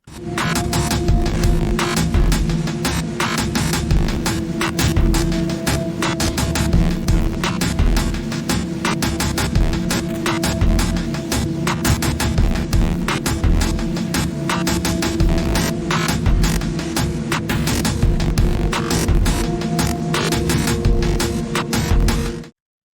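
A steady, driving drum beat for a song, as on the finished album, plays continuously with a full band mix around it, loud and even throughout before cutting off at the end.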